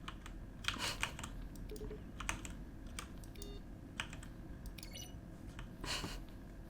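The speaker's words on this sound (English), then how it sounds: "Each sound is a mix of a keyboard stroke and a synthesized tone." Button presses in The Stanley Parable, each a keyboard stroke mixed with a synthesized tone, sound as a string of quiet, irregular clicks with faint tonal blips, soft and close.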